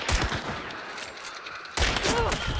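Rapid gunfire and sharp rifle reports from a Lebel rifle in the video game Hunt: Showdown, two dense loud bursts about two seconds apart with echoing tails, no talk.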